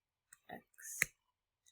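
A computer keyboard gives a few quiet, isolated key clicks while a typo is deleted, sharp ticks spaced irregularly against near silence, one standing out louder than the rest.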